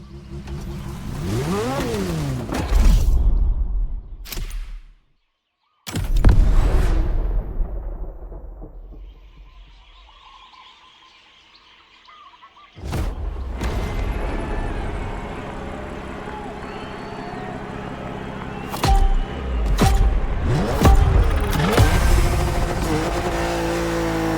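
BMW M4 engine in The Crew Motorfest: loud revving bursts with rising and falling pitch, broken by abrupt cuts and a quiet stretch, then a sustained engine drone that swells louder toward the end.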